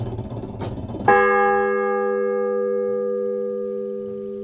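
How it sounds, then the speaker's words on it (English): A large metal hammer rigged to the tenor bell of a church clock strikes a single chime in the belfry of St Martin, Hindringham, leaving a loud, close, rich ringing tone that slowly fades over several seconds after faint knocks. "the only sound that emanates from the belfry is a single clock chime, a large metal hammer rigged up to the tenor bell"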